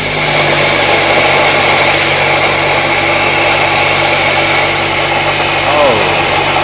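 An Arc Captain 50 amp plasma cutter, run at full power on 220 volts, cuts through half-inch steel plate with a loud, constant roaring hiss and hum that stays strong from start to finish.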